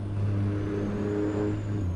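Truck engine from American Truck Simulator, a steady mid-pitched drone with a low hum and faint whine, holding at a constant loud level throughout.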